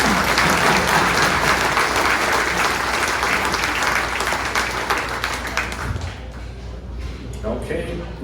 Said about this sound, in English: Round of applause for these Kelvins.